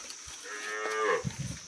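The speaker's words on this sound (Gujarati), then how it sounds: "જોઈ શકો છો આપણી ગાયો બધી હાલી આવે છે" A cow lets out one drawn-out, close, fairly loud moo as the herd walks back toward its pen, followed by a few soft shuffling thumps.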